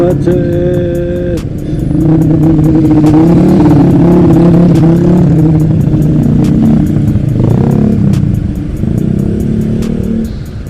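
Cars and motorcycles idle and rev in a traffic jam caused by road repairs on the Pantura highway, a loud close engine drone with shifting pitches, a horn-like tone early on and sharp clicks throughout.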